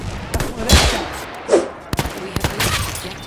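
A World War I revolver fires in a video game, producing a few sharp separate shots spaced across a brief span with short echoing tails.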